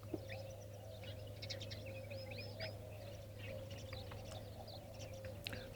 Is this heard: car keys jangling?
no